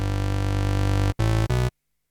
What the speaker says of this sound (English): we're going to use the Pulse Width Modulated Juno oscillator here